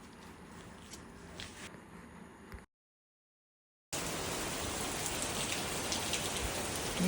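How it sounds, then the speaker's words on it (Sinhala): Heavy rain pours steadily at a home in Sri Lanka, first a softer patter with a few drips, then a brief silent gap before a dense, loud roar of rain on surfaces. "වහිනවනේ මටාම"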